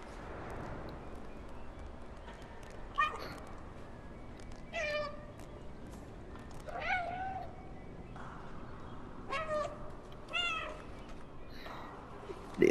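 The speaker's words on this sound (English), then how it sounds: "I just can't make enough meows." Cat in the Stray video game meowing, about six separate meows spaced a few seconds apart, mid-loud against a soft ambient background.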